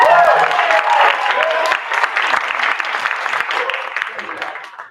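Audience at a noontime outdoor show with guest performers applauding and cheering, a steady wash of clapping that fades toward the end, with a voice talking over it.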